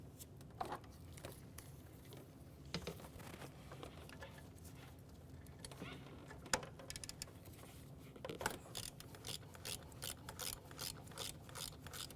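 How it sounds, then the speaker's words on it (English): 13mm ratchet turning out a bolt beneath the exhaust heat shield on a 2005-2010 Chevrolet Cobalt, with quick bursts of light clicking from the pawl, close but quiet, and no talk. "let's continue on with our 13mm, and we'll remove the next bolt underneath it."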